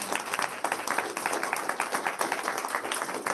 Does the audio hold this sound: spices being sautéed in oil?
no